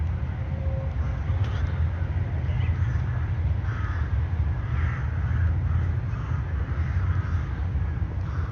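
Faint bird calls, including crow-like caws, sound over a constant low rumble of wind or traffic outdoors in Mellat Park, Mashhad, Iran.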